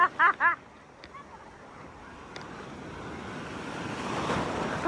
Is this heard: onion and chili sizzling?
no